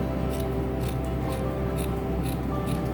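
Scissors snip through an old t-shirt, cutting it into strips about 1 cm wide; several quick, crisp cuts come in an irregular rhythm over a steady background hum, with no talking.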